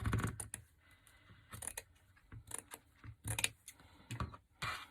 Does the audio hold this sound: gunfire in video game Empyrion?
no